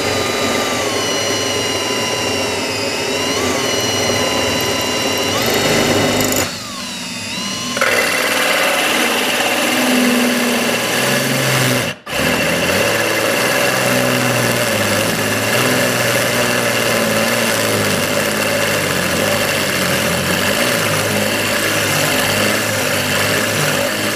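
A corded drill on regular, non-hammer setting spins a hole saw bit into natural stone, giving a continuous loud whine and grinding hum with a short pause in the middle and a brief break near halfway, no voices.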